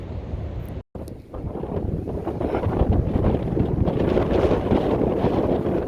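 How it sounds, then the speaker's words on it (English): Strong wind gusts buffet the microphone on a mountain trail in the Grayson Highlands, a loud rumbling roar that builds and stays steady after a brief cut, with no talk. "What's up with this wind? It's crazy strong."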